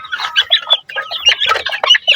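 Close, loud clucking and chattering of several chickens, busy overlapping calls in quick irregular bursts with no speech.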